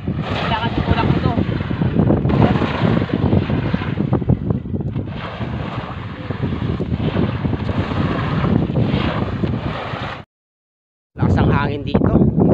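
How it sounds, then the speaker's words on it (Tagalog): Strong wind gusts buffet the microphone at a salt farm, a loud, continuous roar and rumble that drops out briefly near the end, while a person talks over it. "Lakas ang hangin dito."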